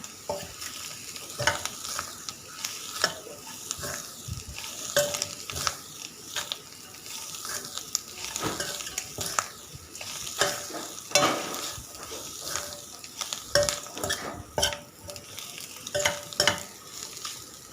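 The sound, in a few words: stirring cooked clam meat into masala in a pan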